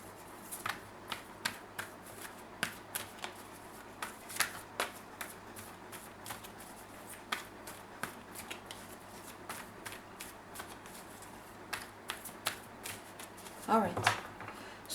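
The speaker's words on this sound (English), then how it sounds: "So let me pull you just your cards" Tarot cards shuffled in quick, irregular riffles and snaps, close and fairly quiet, with a denser flurry of card noise near the end.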